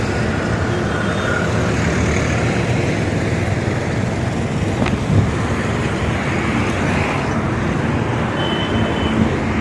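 Roadside traffic on the NH 19 highway makes a continuous broadband roar of passing vehicles, loud and steady throughout, with no talking.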